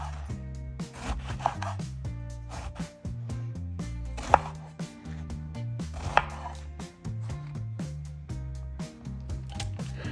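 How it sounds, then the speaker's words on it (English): A knife slices eggplant on a board in a brisk, regular series of many close chopping strokes, heard under steady background music, with a few sharper cuts standing out. "let's slice some eggplant"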